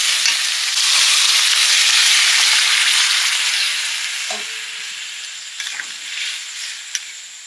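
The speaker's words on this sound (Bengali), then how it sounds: "এবারে মটর আলু সেদ্ধটা ঢেলে দেবো।" Boiled peas and potatoes go into a pan of sizzling spice mix, bringing a loud, close hiss of frying that slowly fades, with a few clunks of stirring near the end.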